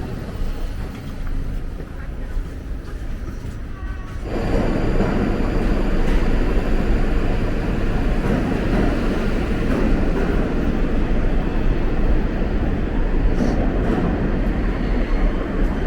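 A New York City Q subway train rumbles through a station, a loud, broad roar that swells abruptly after a quieter opening and holds steady with rattling, and faint voices underneath.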